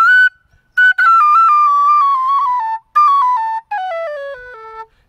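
A Goldfinch alto/mezzo A tin whistle plays a solo run of clear, pure held notes that step downward in pitch, broken by short pauses; close and loud, with no voices.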